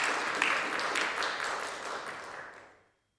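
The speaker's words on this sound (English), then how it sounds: "Let's give Karabo a warm round of applause." Applause at a virtual investment launch event: a dense wash of clapping, steady and moderately loud, tapering off and ending abruptly.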